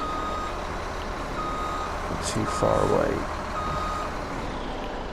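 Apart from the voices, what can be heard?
truck reversing beeps in video game Farming Simulator 17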